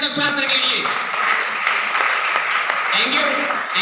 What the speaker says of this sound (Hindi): एक बार पूछ कर जोरदार तालियां डॉक्टर सुभाष सर के लिए